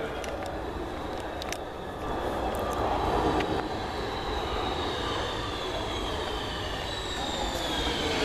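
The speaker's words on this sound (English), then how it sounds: "Subway." A subway train passes with a loud, continuous roar that swells midway. Faint high squeals come from the wheels or rails.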